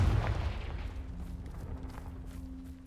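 Confringo blasting spell cast in Hogwarts Legacy: one strong low boom at the start that rolls off into a fading rumble, followed by a steady low hum.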